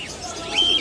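Pigeons at the Zinjira pigeon market in Bangladesh give a brief, close coo and chirp over a low murmur of market background.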